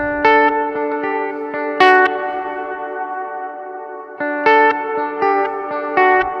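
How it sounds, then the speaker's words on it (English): Bright guitar chords through a Strymon Flint reverb pedal ring out with long, shimmering reverb tails that wash and sustain between strums, loud and spacious. "I'll just leave it on the pad like reverb trails just so you can hear that difference"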